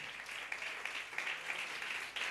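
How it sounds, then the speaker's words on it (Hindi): Audience at a church sermon clapping steadily, a moderately loud continuous patter of many hands with slight rhythmic swells, heard alone without talk. "अरे डर डर के तालियां बजाते हो,"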